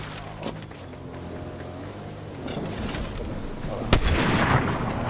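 Sniper rifle fire in an online shooter video game: a sharp loud shot cracks out near the end over a dense, continuous bed of game noise and distant gunfire.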